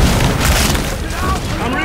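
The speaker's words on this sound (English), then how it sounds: "Oh, look at that explosion." A deep, booming explosion from the video game Killing Floor 2 rolls out loudly and fills the short moment, with a rumbling low tail and game noise around it.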